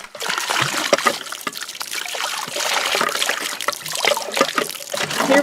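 Clear water gushes from a hand pump well into a bucket, a steady splashing trickle with rhythmic surges as the pump is worked, close and fairly loud with no talking.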